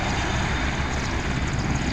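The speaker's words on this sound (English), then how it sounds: "That's the helicopter I went in." A Royal Navy helicopter from RNAS Culdrose passes near the Porthleven coast, its steady, loud rotor and engine roar filling the whole moment without voices.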